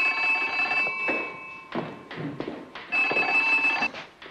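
An old telephone bell rings in repeated electric bursts with short gaps between them, clear and close indoors in a French period drama set in Paris.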